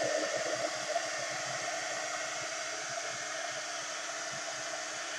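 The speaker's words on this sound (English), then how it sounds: "And when you're using a heat gun of this type, you want to keep it away from the surface" A heat gun blows hot air over a painted surface during a faux patina finish, giving a steady, even rushing hiss that holds for the whole stretch with no talking.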